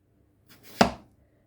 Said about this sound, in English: So I'm going to carry on chopping these